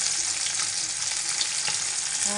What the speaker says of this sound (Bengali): এখানে আমি মাছ ভাজা বসিয়ে দিয়েছি খুব ফুটছে আটা দিয়েছি তেলে তবুও ফুটছে